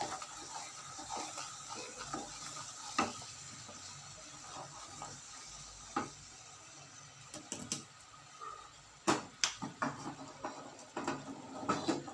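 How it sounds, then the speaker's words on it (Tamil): Dried copra coconut being stirred and roasted in a pan, with scattered scraping and clinking of a utensil against the pan and a faint hiss, louder irregular scrapes toward the end. "இப்போ வந்து கொப்பரை தேங்காயை போட்டு நல்லா கிண்டணும்"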